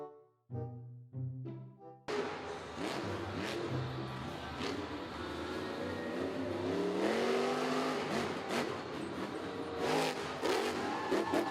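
A toy monster truck plays a loud recorded engine rumble with revving that runs steadily for about nine seconds, after a few short voice-like sounds.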